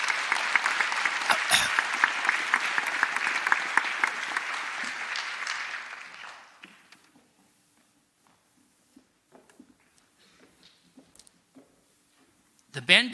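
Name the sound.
audience applause at awards assembly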